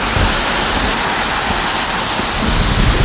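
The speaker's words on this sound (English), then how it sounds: "When it's raining like this is actually okay." Heavy rain pours outdoors during a ride, a loud, dense, steady hiss with wind buffeting the microphone, no voices.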